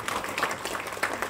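An audience claps steadily at a talk on share market education, a short burst of dense, moderately loud applause with no talking over it.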